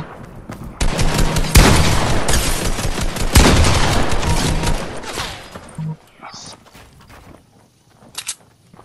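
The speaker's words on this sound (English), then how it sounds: "There's people sniping at us now" Gunfire from snipers and other players in the battle royale game Fortnite: a burst of loud, rapid shots and cracks over several seconds, then fading to scattered quieter sounds and a few faint later reports.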